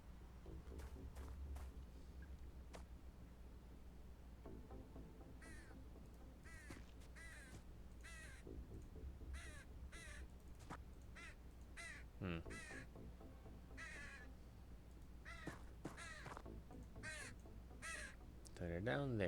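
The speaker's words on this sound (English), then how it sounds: "Shut up, Crow." Crows caw repeatedly in the video game Xenonauts, a series of harsh calls spaced irregularly over several seconds, faint within the game soundscape while a person talks.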